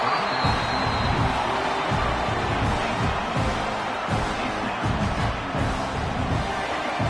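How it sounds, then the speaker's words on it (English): A football stadium crowd at a Texas A&M versus Arkansas game roars loudly and continuously, a thick sustained wash of cheering with pulsing low rumbles throughout, no clear voices standing out. "This crowd, full throat, splitting the eardrums"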